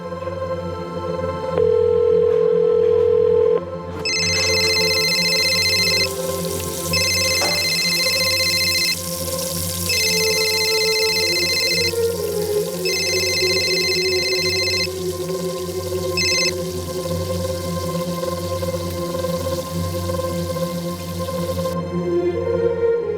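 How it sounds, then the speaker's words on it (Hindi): A phone ringtone plays in repeated bursts of bright electronic tones, ringing on and off for most of the clip over a low background hum. "प्लीज फोन उठा लो"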